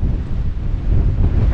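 Steady wind gusting on an open Channel coastline during a sole fishing session, a dense low rushing roar buffeting the microphone with no voices.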